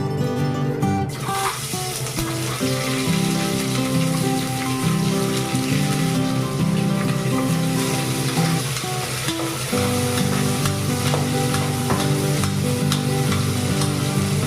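Chopped onions and green chillies sizzle and fry steadily in a pan for ghee rice, with occasional stirring, a loud continuous crackle and hiss throughout.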